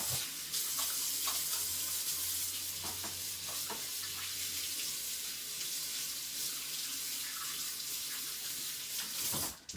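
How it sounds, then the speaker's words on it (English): Tap water runs steadily into a kitchen sink while hands are washed, a loud continuous splashing hiss with small clinks and shifts in the stream, and no talking. "Okay, let me wash my hands."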